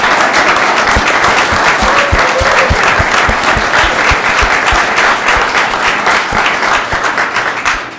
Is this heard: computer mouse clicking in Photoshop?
no